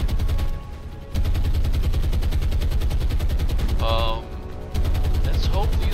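Steady, loud anti-aircraft gunfire aimed at incoming torpedo bombers in the War on the Sea naval game, with rapid continuous machine-gun bursts pounding throughout and two brief dips, plus faint mechanical beeps.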